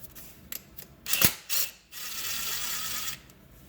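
A 10mm socket on a ratchet works the drain plug of a Polaris Xplorer, with close metallic clicks and a couple of sharp clanks, then a steady rasping ratchet whir that fades out.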